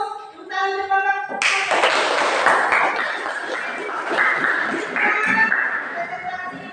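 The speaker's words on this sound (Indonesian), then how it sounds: "Tepuk tangan untuk Bapak." A classroom of students claps together in a burst of applause that starts suddenly after a short tonal sound, holds steady, then thins out, with voices mixed in.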